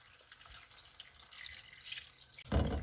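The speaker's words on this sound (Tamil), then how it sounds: "இந்த டைமில் நாங்கள் எங்களுக்கு தேவையான அளவு தண்ணி விட்டுக்கொள்வோம்." Water trickles and drips into a pot of simmering Tamil prawn curry (eral kulambu), then ends in a louder splash as more is poured in, with no talking.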